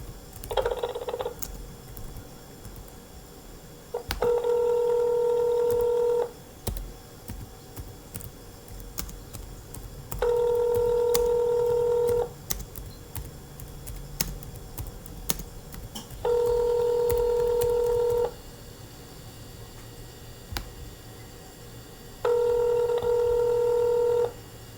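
Four sustained touch-tone beeps from a telephone keypad in an automated phone menu, each about two seconds long and evenly spaced over a quiet line hum.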